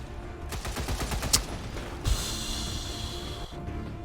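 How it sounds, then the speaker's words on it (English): Enemy gunfire in the XCOM 2 video game: a rattling burst of rapid shots, a sharp crack, then a loud impact and a sustained hissing wash under steady background noise. "Oh no, they're shooting me."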